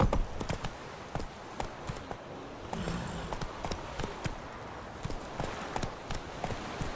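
Horse hooves clip-clopping at a steady galloping rhythm in The Witcher 3 video game, close and fairly loud with a continuous outdoor ambience beneath.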